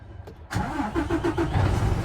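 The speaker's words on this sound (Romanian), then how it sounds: "Și a pornit. Gata, a pornit motorul, da?" A truck's diesel engine cranks briefly with a starter whir, then catches and settles into a steady rumbling idle, close and moderately loud.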